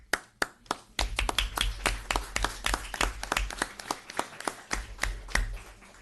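Scattered applause from a small audience at a town board meeting, individual claps clearly distinct and close, building after a few slow opening claps and continuing steadily.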